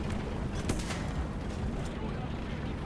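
Tank cannon fire in the World War II game War Thunder, with a Panther tank firing, comes as a heavy booming blast and rolling rumble of battle, loud and dense across the whole stretch with little pause.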